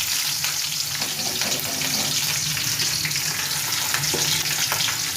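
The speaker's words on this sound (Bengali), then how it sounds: "এখন আমি মাছগুলো ভেজে ফেলব" A loud, continuous sizzle of fish frying in hot mustard oil in a pan, close by and steady for the whole stretch, with no one speaking.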